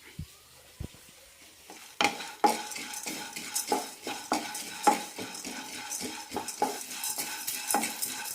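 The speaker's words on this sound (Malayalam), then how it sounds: "കടലപ്പരിപ്പ് വറുത്തെടുക്കാൻ 3-4 മിനിറ്റോളം ആവും." After a quiet start, a spoon begins stirring chana dal and curry leaves roasting in a pan over medium flame, with repeated close scrapes and clinks and faint sizzling throughout.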